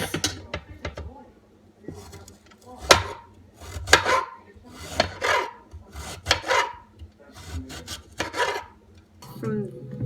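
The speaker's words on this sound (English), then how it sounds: "you just want to cut it into like little tiny slices, like this" A knife slicing peeled ginger into tiny slices, a series of about a dozen crisp, close cutting strokes in an uneven rhythm with short quiet gaps between them.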